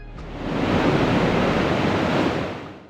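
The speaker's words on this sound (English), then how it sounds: "People watch in interest as water pours from a relief valve on this enormous dam located in Pakistan." Water gushing from a relief valve on a huge dam in Pakistan, a steady broad roar of rushing water that swells in after a moment, holds loud and even, then eases slightly at the end, with no voices.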